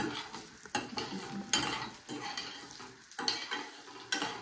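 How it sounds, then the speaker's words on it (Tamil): Cumin seeds, black pepper, curry leaves and shallots crackle and sizzle softly in a pan, broken by intermittent spatula scrapes and stirring knocks at an irregular pace. "சீரகம் பொரிஞ்சிருச்சு, மிளகு பொரிஞ்சிருச்சு."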